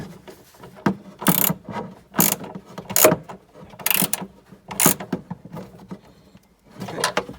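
Bolts on an Audi A4 Cabriolet's folding roof mechanism are tightened with a ratchet, giving about seven loud, close bursts of ratcheting separated by short quiet gaps. No voices are heard.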